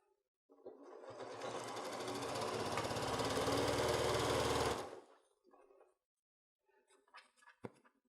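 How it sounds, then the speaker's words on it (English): A sewing machine runs in a single burst of about four seconds, stitching a seam across a foam basket bottom with a close, rapid mechanical whir, followed by faint handling clicks. "sew a 1/4 of an inch all the way across"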